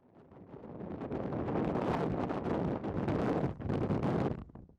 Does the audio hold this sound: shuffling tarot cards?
no